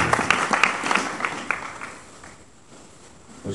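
Church congregation applauding during a French worship service, a burst of clapping that fades out over a few seconds.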